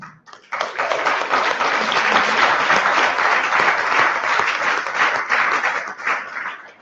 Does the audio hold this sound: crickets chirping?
no